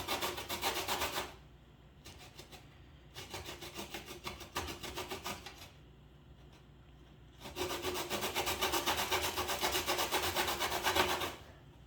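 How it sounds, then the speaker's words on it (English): Lemon rind is scraped off on a kitchen grater in rough, rasping strokes. The rasping comes in four loud bursts of steady back-and-forth scraping with short pauses between them, and the last burst is the longest. "now you'll take your grater with the side of your lemon and you're just gonna get all the rinds off"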